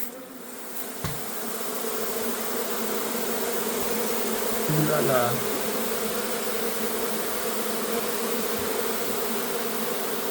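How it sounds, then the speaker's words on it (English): A dense swarm of honey bees buzzes steadily from an opened beehive full of brood and honey, a loud continuous drone that sustains throughout, with a faint brief bit of voice early on. "Time to chase the bees out."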